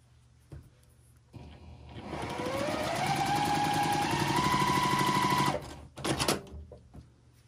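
A sewing machine stitching quilt pieces together for an attic window quilt: a short start, then a steady, fairly quiet whirring run of several seconds, followed by a few brief clunks as it stops.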